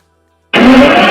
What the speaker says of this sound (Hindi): ऑन करते ही जो इसका इंजन का साउंड है ना, मज़ा आ जाता है।